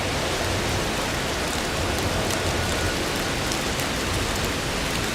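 Steady, dense rain hisses evenly throughout on a Tokyo street walk in Akabane, a constant full wash of falling water with no voices.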